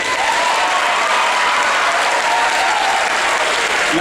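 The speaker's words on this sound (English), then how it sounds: "So give Marshall a big round of applause." Loud, sustained applause from a crowd honouring a state-qualifying wrestler at a school sports awards ceremony, dense even clapping that fills the room from start to finish.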